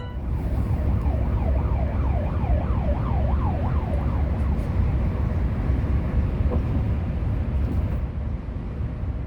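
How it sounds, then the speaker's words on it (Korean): An emergency vehicle siren on a Korean expressway wails in rising and falling sweeps over loud, steady road and bus engine noise, then fades out. "사이렌을 울리는 차가 지나갑니다"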